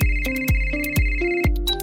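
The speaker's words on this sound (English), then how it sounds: "you get a phone call" An incoming call rings as a bright electronic ringtone, a quick repeating melody of plucked tones in a steady bouncy rhythm, loud and close with no talking.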